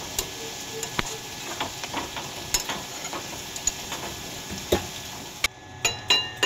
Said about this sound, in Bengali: কাঁকড়াটা ভালো করে ভাজা করে নিতে হবে